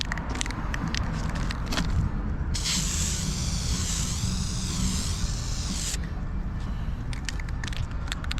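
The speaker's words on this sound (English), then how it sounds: "Look at that professional spray." A steady hissing spray from an aerosol can of carb cleaner while working on a Porsche 964, lasting a few seconds, over a constant background rumble with scattered clicks and knocks before and after.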